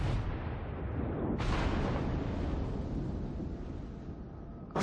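Naval gunfire from a battleship in the video game World of Warships: a sustained rumbling barrage with a sharp new blast near the start and another at the very end, loud and continuous with no talk.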